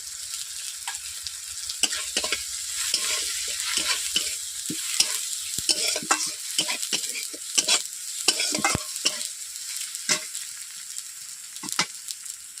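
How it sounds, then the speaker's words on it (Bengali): Sliced onions sizzle in hot oil in a pan while chili and turmeric powder are added for a small fish curry, with a continuous frying hiss broken by frequent scraping stirs of a spatula close by. "পেঁয়াজগুলোকে বেশি বেশি ভাজা করবো না, একটু আধো আধো কাঁচাভাবে রাখবো।"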